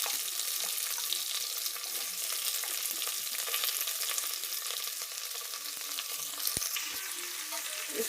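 Brinjal, potato and carrot for Coimbatore-style sambar being stirred as they fry in a pan, a soft continuous sizzle with light scraping and stirring clatter, close up and fairly quiet, no talking.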